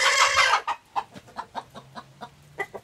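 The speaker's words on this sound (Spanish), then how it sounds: "Aquí en este otro lado tengo más gallinas. Aquí hay como 8 hembras," Hens and a rooster clucking inside a coop kept for manure, with about eight hens; a short burst of flapping opens, followed by a steady series of close, rhythmic clucks and soft calls.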